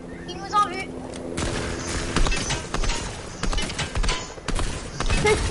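Light machine gun fire in a video game, dense rapid bursts of shots running through most of the clip amid chaotic battle noise, with players shouting over the shooting.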